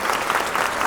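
A film-event audience bursts into full, sustained applause to welcome the lead actor Aghosh Menon onto the stage, dense clapping steady and close throughout with no gaps.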